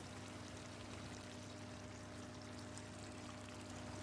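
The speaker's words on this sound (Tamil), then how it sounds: "இப்போ நம்ம அரைச்ச பேஸ்ட்டை ஊற்றிடலாம்" A thick ground spice paste pours steadily into a pot of chicken curry with a continuous wet, trickling rush over a low background hum.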